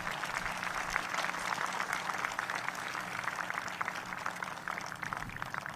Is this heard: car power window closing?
no